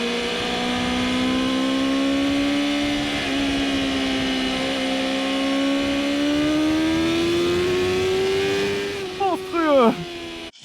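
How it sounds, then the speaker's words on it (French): A BMW M 1000 RR sport motorcycle engine screams at high revs, its pitch climbing steadily under hard acceleration, loud and close, before quick rev drops from gear shifts near the end. "Qu'est-ce que ça hurle là"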